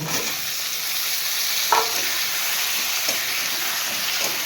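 Carrots added to fried potatoes in a pan, a steady loud sizzle of frying with a few soft stirring scrapes.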